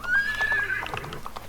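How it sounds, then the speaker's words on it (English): A Mustang horse in the Roblox Wild West game gives a loud neigh over a quick clip-clop of hooves, a brief, close, synthetic-sounding burst. "the Mustang is the best horse in the game"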